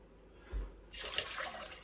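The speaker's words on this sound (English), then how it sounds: "He's going to bring some more water over because, I don't know, just 1 centimetre isn't really deep enough." Water poured into a cooking pan holding plant-based hot dogs, a soft splash and a trickle that keeps running close by and quietly, after a dull thump.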